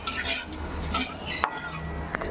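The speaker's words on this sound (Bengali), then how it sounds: "তেলের মধ্যে আমি তেজপাতা, একটা শুকনো লঙ্কা আর গোটা গরম মশলা ফোড়ন দিচ্ছি" Bay leaf, a dry chilli and whole spices go into hot oil in a pan, a faint sizzle under close metallic scraping and clinks of a utensil, with one sharp knock.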